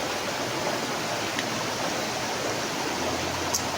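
Mashenuloddi waterfall pouring steadily, a constant, even broadband rush close by, with no one speaking over it.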